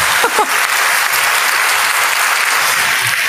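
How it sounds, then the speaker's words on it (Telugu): A church audience claps hard and fast during a Telugu sermon, loud dense applause that fills the space without pause. "చప్పట్లు కూడా సరిగ్గా కొట్టట్లా, సరి గట్టి కొట్టండి"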